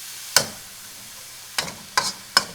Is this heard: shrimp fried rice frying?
yes